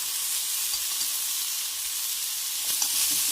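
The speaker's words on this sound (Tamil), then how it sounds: "கொடமிளகாய் நல்லா வதக்கி விடுங்க." Bell pepper (capsicum) sautéing in a pan with a little salt, giving a steady, even hiss of sizzling oil that holds at a constant level, with a brief scrape of stirring near the end.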